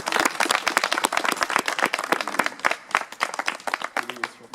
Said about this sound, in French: Que je vous demande d'applaudir plus fort.